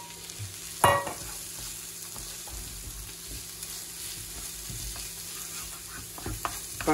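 Onions frying in a pan with garlic that has begun to color, a continuous sizzle with repeated stirring scrapes and a sharp clack early on, close and without talk.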